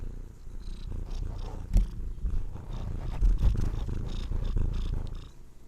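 A cat purrs close to the microphone in a steady, low rumbling rhythm, continuing throughout with a few soft bumps and rustles.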